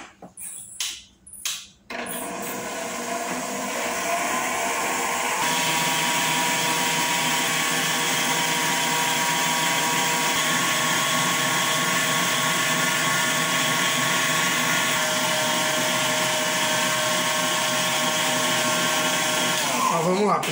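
An electric mixer beats Ninho milk cake frosting at medium-high speed, starting with a few knocks, then settling into a loud, steady whirring drone that continues unbroken to the end.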